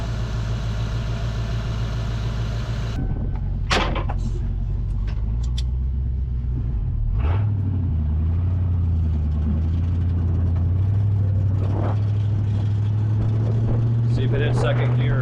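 Engine of a 1987 Mustang GT convertible with automatic transmission and no kickdown cable, running loud and close as it shifts into second gear, its steady drone stepping in pitch; voices talk throughout.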